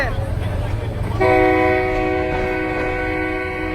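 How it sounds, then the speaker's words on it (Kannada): A crowded train passing through a busy market in Nigeria, its rumble building before a loud, sustained multi-tone horn blares close by, with people talking over it. "ಇದುವರೆಗೂ ಯಾವ್ಯಾವ ಟ್ರೈನ್ ನೋಡಿದೀನೋ ಆ ಎಲ್ಲ ಟ್ರೈನ್ಗೂ ಮ್ಯಾಜಿಕ್ ಟ್ರೈನ್ ಇದು"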